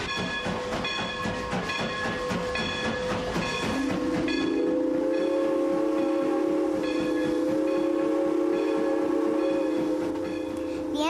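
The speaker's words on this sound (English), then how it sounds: "The engine begins the trip by pulling the cars in reverse." A train engine starts its trip pulling passenger cars in reverse on a sunny day, with a steady rising engine hum and whistle-like tones over rhythmic rail clatter, loud and continuous throughout with no talk.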